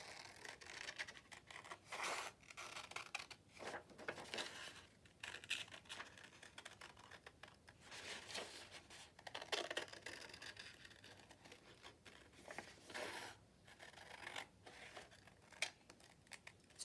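Scissors cutting out a paper page template up close, with repeated short snipping and crinkling paper sounds in irregular bursts, quiet and without talk.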